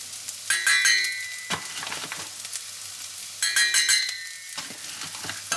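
Butter and flour cook in a pan for a roux over lowered heat, giving a soft steady sizzle, with scraping stirring strokes in two bursts and no one talking.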